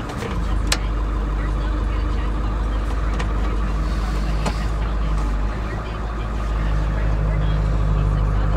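A four-wheel-drive vehicle's engine idles with a steady low hum, a few sharp clicks and clunks of shifting scattered through, and the engine rising slightly near the end.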